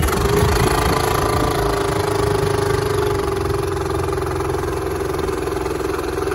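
A Honda 2 hp four-stroke long-shaft outboard motor with fresh oil runs steadily near at a raised throttle, a continuous mid-pitched engine drone with a faint knocking texture and no talking.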